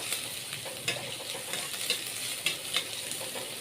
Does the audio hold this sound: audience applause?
no